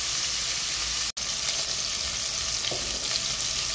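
Onion and garlic sizzle steadily in a hot pan at the start of a pork and eggplant soup, a continuous close frying hiss with one sharp momentary dropout.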